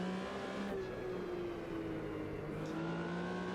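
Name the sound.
1974 Porsche RSR 3.0 accelerating with gearbox whine, Automobilista 2 video game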